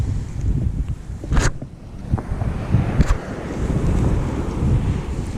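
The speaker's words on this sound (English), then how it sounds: "The wind's blowing it." Strong wind buffets the microphone on a seaside beach at Gorleston, with a constant roaring rush and gusty swells and surf-like noise, loud and close, no talking.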